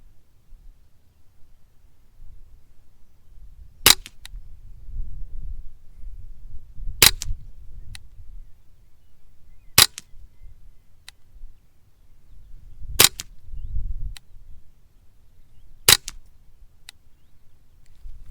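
A Ruger 10/22 rifle fires a five-shot group: five sharp, isolated shots spaced roughly three seconds apart, each a crisp crack over quiet outdoor background.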